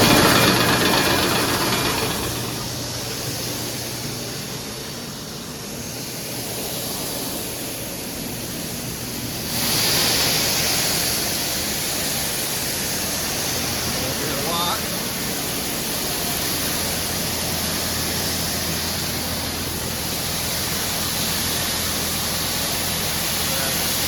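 A twin rotor combine harvester cranks and settles into a loud, steady mechanical drone during bean harvest, its broadband roar shifting in tone a couple of times as it runs.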